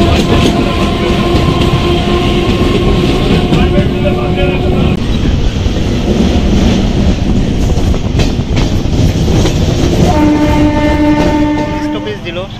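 A Naihati–Bandel local train runs on the rails, rumbling loud and close with steady clatter, sustained tonal hums at times and a fade near the end.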